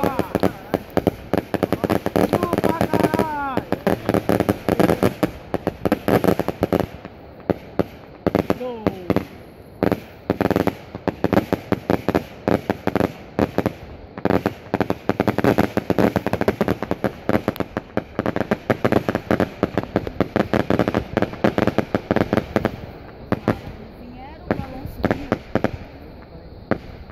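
A 10-metre Truff string of firecrackers goes off in a long, dense crackling run of rapid pops lasting close to half a minute, loud and continuous, with voices audible underneath at moments.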